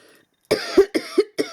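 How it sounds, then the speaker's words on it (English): Four or five harsh coughs in quick succession from a single person, close and fairly loud, each burst sharp and separated by brief pauses. "I'm getting really coughing here now"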